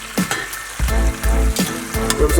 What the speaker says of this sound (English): So the only thing that we need to do now is reheat these dumplings.